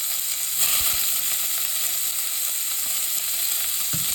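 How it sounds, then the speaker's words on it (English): Chopped onions fry in oil with chilli, bay leaves and cumin seeds for a one-pot chole masala, giving a steady, close, loud sizzle with a few soft stirring knocks and no voices. "Quickly fry it. Then adding the chopped onions"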